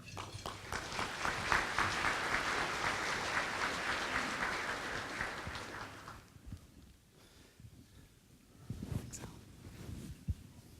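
An audience welcomes keynote speaker Ken Miller to the podium at the Hawaii Digital Government Summit lunch with steady applause that fades out after about six seconds, followed by a few faint footsteps and small noises.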